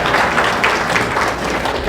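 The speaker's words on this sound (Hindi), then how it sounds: "इनके लिए ताली बजाइए" An audience at a public talk in India applauding, a brisk continuous patter of many hands clapping close by, loud and steady for the whole stretch.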